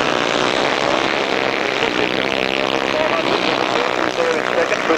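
Grasstrack racing motorcycles at full throttle at a 1995 meeting in Frittenden, a steady loud engine drone with a buzzing whine lasting throughout, with a commentator talking over it.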